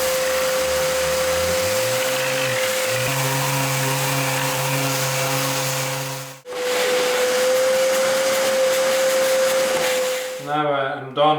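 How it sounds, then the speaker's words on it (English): Vacuum cleaner working over a freshly sanded boat surface, a steady droning whine with broadband rush that cuts out briefly partway through, then resumes before ending in clattering handling noise. "So I did the vacuum cleaning before, following the direction of the tree."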